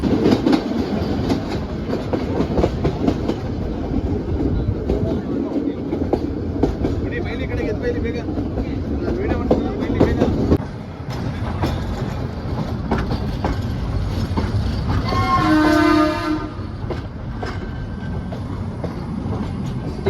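The diesel-hauled Ooty toy train rolls along with a steady rumble and clickety-clack of wheels, heard from on board, with a brief high squeal or whistle near the end and some voices in the background.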